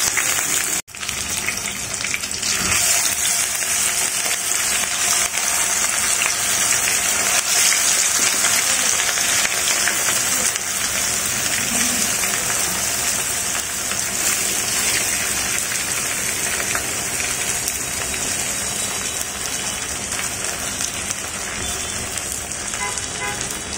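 Rohu fish pieces sizzling in hot mustard oil, a dense, steady crackle and hiss of frying that runs unbroken from start to finish at close range, with no talking.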